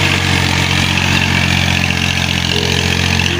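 A tractor engine runs steadily in a Punjab rice field, a continuous loud mechanical drone with a rough idling rumble and no voices.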